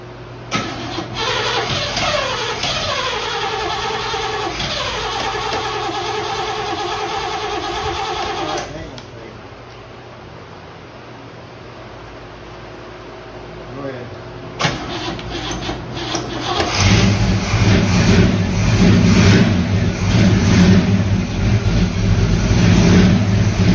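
A 1937 Ford engine cranks and catches, runs roughly for several seconds, drops to a quieter idle, then restarts and climbs into loud, close revving that holds to the end.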